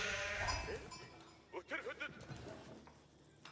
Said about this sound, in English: I hear some sheep being collected.